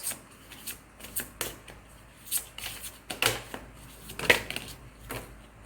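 A deck of tarot cards is shuffled and drawn at close range: crisp riffling bursts and soft slaps come in irregular clusters, with no voices.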